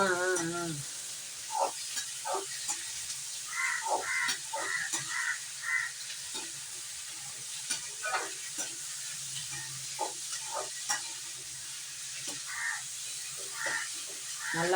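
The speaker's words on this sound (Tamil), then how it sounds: "சரி எண்ணெயில் வதக்கிடுறோம்" Ingredients for a village-style fish curry sautéing in oil in a pan, with a soft steady sizzle under repeated scraping stirs of a spoon, fairly quiet and close, with no talk.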